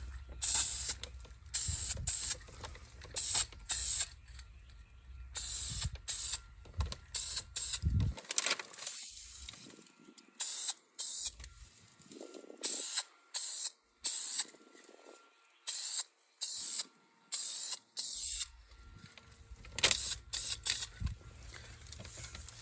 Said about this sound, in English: And just take your time spraying.